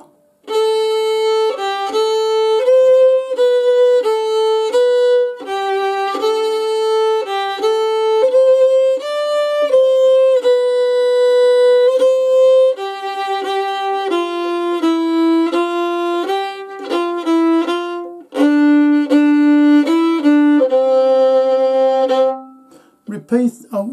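A solo fiddle plays the B section of a tune continuously, note after note at a steady pace, clear and close, ending abruptly.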